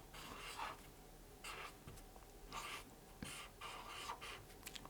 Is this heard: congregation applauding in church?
no